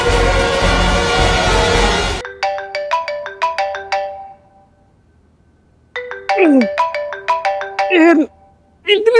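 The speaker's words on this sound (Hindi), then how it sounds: "इतनी सुबह सुबह किसका फोन है?" A bright electronic ringtone plays a repeating melodic pattern, pausing and restarting, loud and close after a burst of noisy background.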